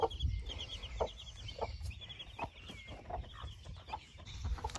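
Hens cluck softly in a series of short, scattered calls over a rustling, busy background, with a higher chirping bird sound running through.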